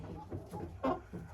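Young laying hens, Leghorns and Lohmann Sandys, giving a few soft close clucks in short bursts over a quiet background.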